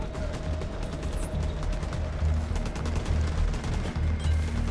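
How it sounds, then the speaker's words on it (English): Gunfire and a grenade explosion in the video game The Division 2, with rapid repeated shots and sharp bursts over a dense, steady game background, loud and continuous. "Let's throw a grenade."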